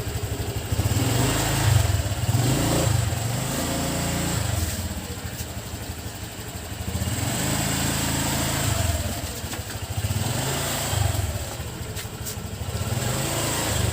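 A Honda Click 125 motor scooter engine putters and revs nearby, rising and falling in pitch over several throttle changes, with a steady idle between.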